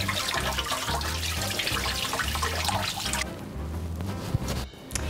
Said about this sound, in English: before we boil, we always have to wash our potatoes